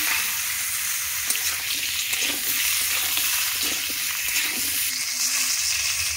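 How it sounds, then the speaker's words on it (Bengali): Potatoes and pointed gourd fry in oil with a steady, bright sizzle that stays close and continuous throughout, broken only by occasional faint clinks and shifts in the pan. "এরপর এই তেলের মধ্যে আলু আর পটলগুলো ভেজে নেব।"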